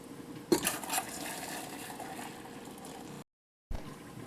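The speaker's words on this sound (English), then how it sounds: "Boiling water." Boiling water poured from a kettle over a canning funnel, ladle and jar lids while canning zucchini, a close splashing, bubbling rush that swells early, runs steadily, then cuts to silence before a brief return.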